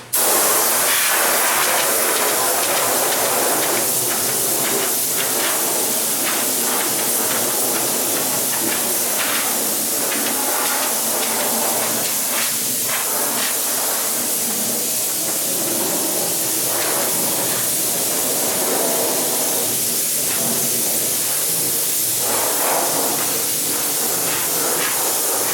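Compressed air blowing across an aircraft wing surface during wipe-down, a continuous loud hiss with irregular bursts and surges as the nozzle moves, close up.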